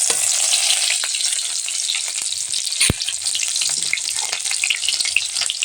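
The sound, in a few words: ginger and onion frying in oil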